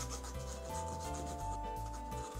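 A nail file rubs back and forth across fingernails before nail painting, a close, steady scratchy rasping in quick repeated strokes, faint and without talk.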